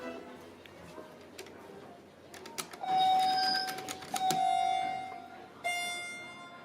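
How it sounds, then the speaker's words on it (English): A Montgomery elevator chime inside Macy's at Plaza West Covina rings several times, its clear sustained tones fairly loud and close over soft store ambience, each ring fading slowly. "That chime's so cool. I'll try to make it ring again."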